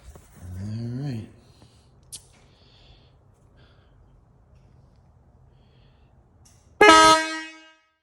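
A Motohorn dual-track quad horn fires in one loud, brief harmonic-rich blast near the end, preceded by a faint sweeping tone and quiet garage-like background.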